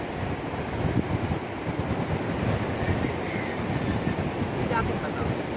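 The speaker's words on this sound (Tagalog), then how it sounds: "Maalon." Rough sea waves wash onto a beach in Pangasinan, a steady, close rushing surf with wind buffeting the microphone and no pauses.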